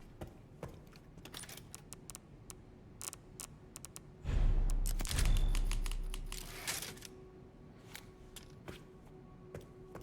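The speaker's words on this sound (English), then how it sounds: "there's a typewriter in here" Typewriter keys clacking in the game Resident Evil Requiem, a quiet, irregular patter of single keystrokes with a louder, denser rustle partway through.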